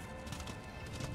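Horse galloping in Darksiders 2, a quick muffled run of hoofbeats low in a busy game mix of steady tones and hiss, fairly faint.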